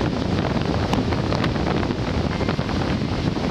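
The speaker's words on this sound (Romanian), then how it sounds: "Vai, ce vânt e!" Strong wind on a wintry mountain in the Cozia Mountains, Romania, buffets the microphone in a continuous loud roar, gusting without pause.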